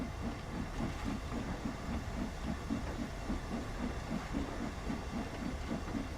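Steam locomotive in Train Sim World 2 chuffing in a steady, quick rhythm of regular exhaust beats over a continuous hiss and rumble as it builds speed, with no talk.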